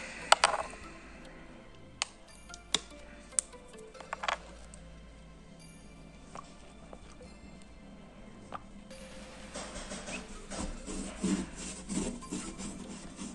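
Rubbing at leftover tape adhesive on a window with dimexide, a low scraping friction that runs steadily with a few sharp taps early on and grows busier and louder toward the end, no voices.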